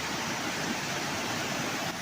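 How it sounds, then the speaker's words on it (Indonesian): The Gung river in the Guci tourist area of Tegal, Central Java, rushes after a flash flood, a dense, steady roar of fast water filling the whole stretch with no pauses and no talk. "Derasnya aliran Sungai Gung meluluh lantakan sejumlah kolam renang dan kolam rendam air panas, serta 3 jembatan di kawasan wisata Guci."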